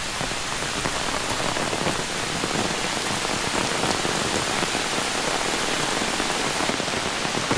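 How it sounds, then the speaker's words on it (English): Heavy rain pours onto the forest canopy along the Appalachian Trail, a dense, steady, loud hiss of countless drops with no voices. "This is definitely the hardest it's rained in a really long time"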